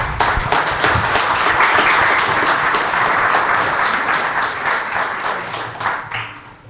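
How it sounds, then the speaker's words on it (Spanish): Audience at an academic event on environmental integration applauding loudly, a dense burst of clapping that stays full for most of the stretch and then slowly thins out toward the end. "Un aplauso, por favor."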